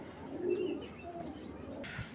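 Racer pigeons cooing softly in a loft, a low, murmuring coo repeated through the short stretch at moderate distance, with no talk.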